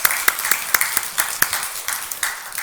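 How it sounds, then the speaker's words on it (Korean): A church congregation applauds with scattered, distinct claps that give an uneven, sparse rhythm. The claps are moderately loud and there is no talking over them. "크게 한번 하나님 앞에 영광의 박수를 돌리겠습니다"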